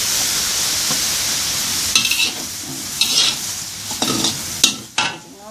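Mama instant noodles stir-fried in a wok with kale, bell pepper, bean sprouts and minced pork, a steady loud sizzle with repeated scraping spatula strokes and clanks against the pan, close up.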